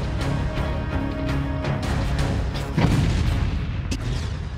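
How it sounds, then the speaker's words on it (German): A bomb blows up a tanker truck in a World War II setting, a deep booming blast that rolls on loudly for several seconds with crackling bursts inside it, no voices over it. "Dieses Mal läuft die Explosion wie geplant."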